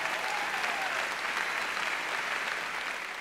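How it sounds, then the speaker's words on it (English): An audience at a stand-up comedy show applauds in a steady, full burst of clapping that fades slightly toward the end, with a faint voice briefly audible at the start. "Give him a nice round of applause."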